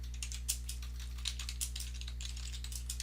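Quick, irregular clicks of typing on a computer keyboard come in short bursts over a steady low hum, close and fairly quiet, with no talking.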